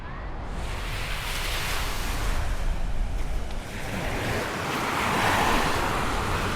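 Steady surf washing onto a resort beach shore, a continuous broadband roar of breaking waves with some wind rumble, no voices.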